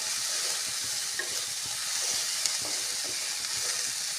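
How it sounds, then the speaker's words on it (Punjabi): Onion and cumin fry in hot mustard oil with a steady close sizzle, broken by light scraping and ticking as the pan is stirred. No voices are heard. "ਤੇਲ ਗਰਮ ਹੋ ਗਿਆ ਸੀ ਆਪਾਂ ਨੇ ਪਿਆਜ਼ ਵੀ ਪਾ ਕੇ ਵਿੱਚ ਜੀਰਾ ਵੀ ਪਾਤਾ"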